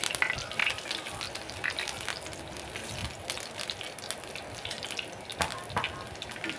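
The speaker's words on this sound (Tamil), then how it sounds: "இதே லைட்டாக கோல்டன் ப்ரௌன் ஃப்ரை பண்ணி எடுத்து வச்சுக்கணும்" Garlic frying lightly in a pan for a bitter gourd gravy, giving a steady, close hiss and crackle that runs throughout with small sharp pops and no talk.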